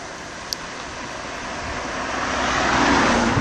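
An ultralight aircraft's engine drones steadily in flight over Réunion, a continuous broadband roar that swells louder over a few seconds, with no talking.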